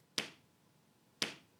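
Two single, crisp hand claps to a beat, about a second apart, heard close and alone against silence.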